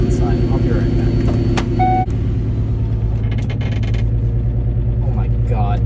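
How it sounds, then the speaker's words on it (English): Exhaust of a car, later a GT, droning in a steady low rumble that fills the cabin and shakes the body, continuous throughout with brief higher tones and some movement noise over it. "my exhaust is shaking my car"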